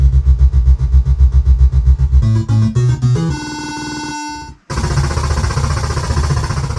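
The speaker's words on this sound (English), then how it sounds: "Look at the engine idles down." In a video game, a vehicle engine chugs in a rapid pulsing rhythm, then winds down through stepped tones, cuts out briefly, and returns as a rougher steady drone.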